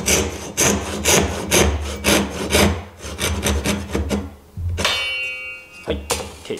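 A Japanese hand saw cuts a wooden tenon for a joined stool, with quick, rhythmic back-and-forth strokes close up, a short pause, then a scraping rasp and more strokes.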